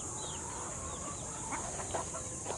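Hen clucking on a farm, with faint soft clucks and a few brief higher calls over steady outdoor background noise, fairly distant and quiet.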